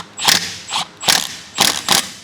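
Ratchet wrench tightening a size 17 nut while assembling an Eleiko flat bench: four or five loud, close bursts of ratcheting clicks separated by short pauses.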